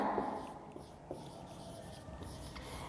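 A teacher writes an answer on a board, faint scratchy strokes beneath a steady room hum, with a few soft taps and no talking.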